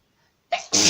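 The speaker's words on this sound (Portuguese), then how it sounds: "vontade de espirrar no meio do vídeo" A single sharp sneeze bursts out close to the microphone after a brief quiet, a short intake followed by a loud explosive release.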